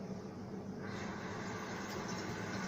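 Tap water rushes steadily into an alkaline water ionizer machine, a continuous broadband hiss and gush that grows slightly fuller partway through, with no voices.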